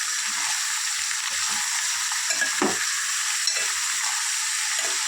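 Chopped ivy gourd stirred into a hot tempering in a pan for a coconut fry makes a constant bright sizzle, with a few soft scrapes of the stirring spoon near the middle.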